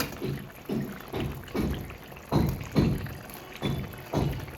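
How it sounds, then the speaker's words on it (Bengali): Lentil dumplings (bori) drop one after another into simmering curry broth, giving a series of about nine soft, evenly spaced plops and splashes over a low bubbling background. "এখন আমি বড়িগুলো ছেড়ে দেবো"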